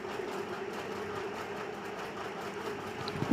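A sewing machine runs steadily, stitching a double-cup blouse without a pause. Its continuous motor hum carries a fast, even needle rhythm from start to finish, with no voices.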